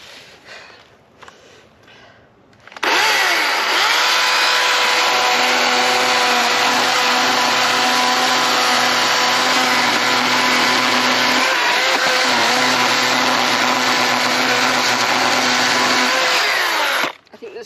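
Non-gas chainsaw cutting through the top of a fallen tree: after a few seconds of quiet it starts up into a loud, steady high-pitched whine that holds for about fourteen seconds, then cuts off abruptly.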